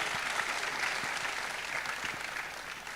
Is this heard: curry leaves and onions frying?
no